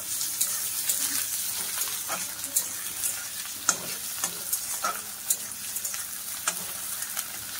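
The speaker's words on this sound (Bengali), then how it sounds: "এটা পেঁয়াজের সঙ্গে ভালো করে ভেজে নেব" Dried lote fish frying with onions in a pan, a steady sizzle with scattered stirring scrapes and clicks of a utensil, close and moderately loud, no talk.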